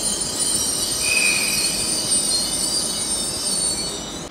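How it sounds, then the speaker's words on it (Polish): A double freight train passes near Gliwice, its wheels squealing loudly over a steady rolling rumble from start to finish, with no voices. "Widzowie, mamy przelot towarówki."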